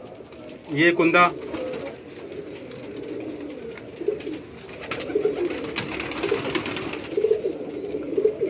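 Pigeons coo continuously in a rooftop loft in Karachi, a low close murmur running under a voice, with a brief louder flutter early on.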